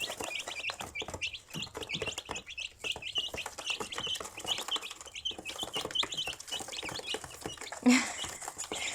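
Several chickens cluck and chirp softly in a busy, continuous chatter while scratching and digging in ash, with scratchy rustling underneath.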